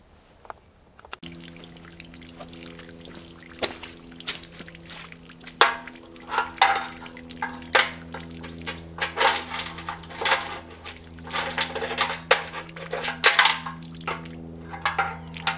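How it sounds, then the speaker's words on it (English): Water sloshing and rinsing inside the steel gas tank of a 1975 Moto Guzzi motorcycle, with irregular pouring, trickling and rattling swishes over a steady low hum, growing busier as the tank is shaken. "rinse it out with distilled water to keep it from rusting anymore"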